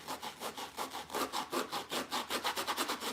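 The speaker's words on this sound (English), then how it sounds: "I'm just trying to loosen these fibers up so I can give him the look that I want him to have." Rhythmic rasping scrape of fibers being roughed up on a handmade primitive Valentine snowman craft, close and steady, with repeated back-and-forth strokes quickening toward the end and no talking.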